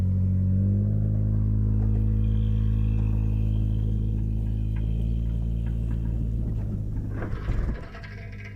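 Engine of an old police car, abandoned for about 30 years, running after a tow start: a steady low rumble holds throughout, with a brief clatter and roughening near the end.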